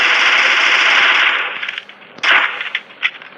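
Video game gunfire: a loud, sustained automatic burst rattles for about two seconds, then fades, followed by two sharp separate shots.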